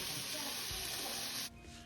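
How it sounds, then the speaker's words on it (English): Chicken pieces searing in a single layer in a hot stir-fry pan give a steady, dense hiss that drops to a softer sizzle near the end, with no talking over it. "You hear that sizzle?"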